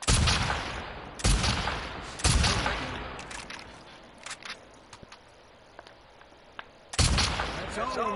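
Gunfire in The Last of Us Part II video game, with loud shots near the start, a quieter stretch of small clicks and rattles, then another heavy blast near the end.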